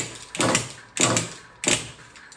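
A previously seized nitro RC car engine, set to idle with the igniter in, gets three short whirring, ratchety starting bursts about half a second apart. It never catches and runs on its own.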